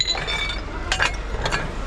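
A few sharp, bright clinks of plastic plates knocking together, two distinct taps close by against a low background hum.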